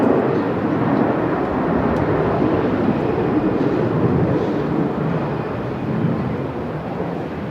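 An aircraft landing on runway 34 at Melbourne Airport, a loud, steady, broadband jet roar heard from outdoors that holds for several seconds and then eases slightly, with no voices.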